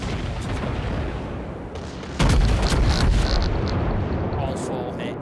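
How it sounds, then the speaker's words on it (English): Torpedoes strike a ship in the naval game World of Warships with a sudden heavy booming blast. A low rumble of battle rolls on behind it, and the boom swells and then fades. "Oh, the Turks is about to be hit by four torpedoes."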